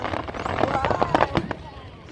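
Fireworks bursting at the Blackheath Bonfire Night display in 2019, a run of sharp pops and crackles at middle distance over crowd noise, with people talking nearby.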